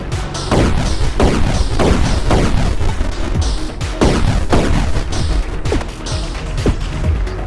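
Laser and rocket shots in the Atari 50 reimagined multiplayer video game: a rapid series of loud, punchy blasts and explosive thumps firing in quick irregular succession.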